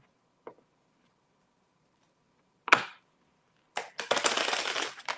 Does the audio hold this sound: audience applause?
no